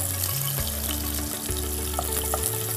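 Chopped onions frying in a pan of oil for mutton korma, a steady close sizzle with soft stirring clinks and a low background hum, no talking.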